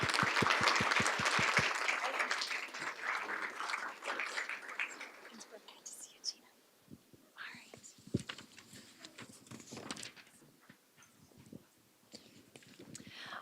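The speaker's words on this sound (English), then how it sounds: "One more round of applause." Applause from a board of education meeting audience fills the opening five seconds with dense, steady clapping, then fades into scattered rustling, footsteps and murmured voices in the room.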